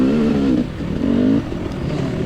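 A KTM dirt bike engine revs hard in uneven surges while the rider slips the clutch climbing a hill on a muddy hare scramble course; the loud, close motor rises and dips in pitch without a break.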